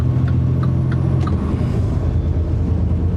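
Traffic sweeps around a road bend, a steady low engine rumble from passing cars and heavier vehicles rolling by close at hand.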